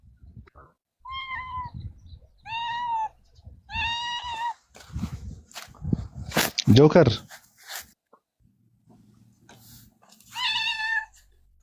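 A cat gives several drawn-out meows in quick succession, fairly close and clear, then one more after a short gap, with people talking and shouting loudly in between.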